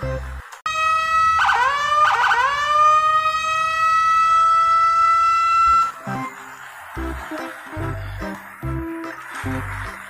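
A loud electronic siren wails continuously, rising and falling, then cuts into a choppy, clattering stretch of toy sounds.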